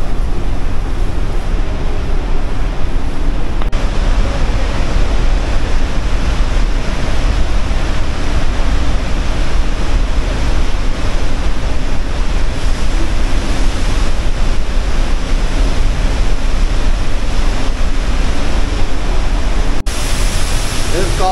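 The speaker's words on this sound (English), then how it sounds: "We're right under the waterfalls." Niagara Falls heard from the tunnels beneath the waterfall, a loud unbroken roar of falling water that fills the whole stretch evenly, close and overwhelming with no pauses.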